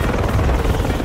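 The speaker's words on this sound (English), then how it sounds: "there's a helicopter outside right now" A helicopter flies close outside, its rotor drone loud and steady, a continuous low throbbing rumble with no break across the whole moment and no voices over it.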